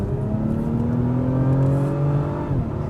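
An Acura TLX Type S accelerates hard on a backroad. Engine pitch climbs steadily in a loud, close rising whine and roar over a few seconds, then eases slightly, with no talking.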